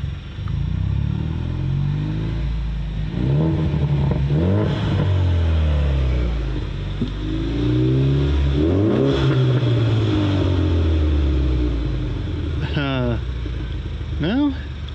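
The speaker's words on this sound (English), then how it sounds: "Let's give it some gas, see if anything comes out." An Ecoboost Ford Mustang engine idles low, then revs up repeatedly in rising and falling surges, with a voice speaking over it near the end.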